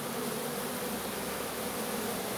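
A swarm of honey bees issuing in July drones in a dense, steady buzz that fills the air, close and continuous with no voices over it.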